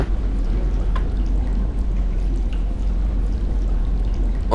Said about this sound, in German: Also scheinbar drängt er das Wasser irgendwie zurück